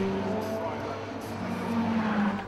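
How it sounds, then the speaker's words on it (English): A Go Green Motorsport Lotus race car rolls to a stop in the pit at Donington, its engine and tyres rumbling close by while a voice talks over the scene. "The Go Green Motorsport car comes to a halt."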